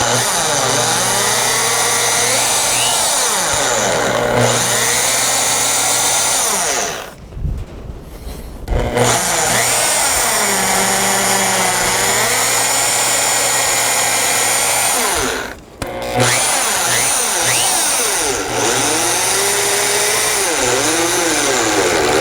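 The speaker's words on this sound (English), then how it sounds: "It's an auger." A power auger bores into wood for a shelf-building job, whining loudly and steadily up close, with two brief pauses where the motor stops before drilling resumes.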